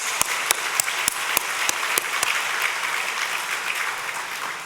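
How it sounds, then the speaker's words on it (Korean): Church congregation at a Korean Sunday worship service marking the church's 54th anniversary, applauding in a dense, even wash of clapping, with a few sharp louder claps standing out near the start. "박수하겠습니다."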